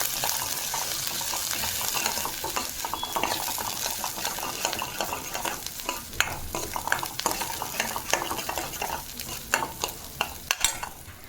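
Green chilli halwa is stirred in a pan with a spoon, scraping and clinking in quick, uneven strokes over a low sizzle, close and fairly loud, with no talking.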